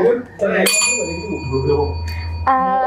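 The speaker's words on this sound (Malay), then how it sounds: "Tekan loceng." A buzzer bell is pressed once during a Malay song guessing game, a bright ringing ding with a long sustained tone, loud and close, following talk and then ringing again near the end.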